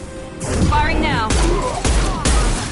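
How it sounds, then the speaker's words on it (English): Gunfire from a Mass Effect video game battle, sharp bursts landing at intervals over a busy backdrop of game sound and voices talking. "Firing now."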